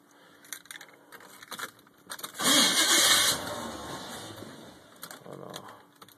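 Chevrolet Caprice, a 2012 project car, with keys jangling before its engine cranks in one loud burst of a few seconds and then dies back into quieter handling noise.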